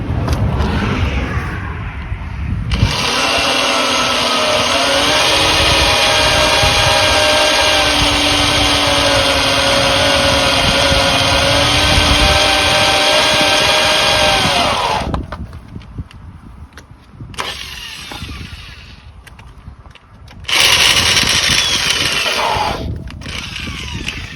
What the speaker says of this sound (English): I need to get some pressure on the drill at the same time